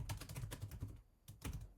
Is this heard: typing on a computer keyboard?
yes